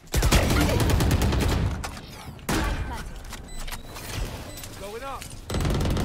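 Bursts of gunfire in a competitive shooter video game, with loud rapid volleys at the start, a heavy burst midway and another at the end, mixed with game effects and players talking excitedly over it.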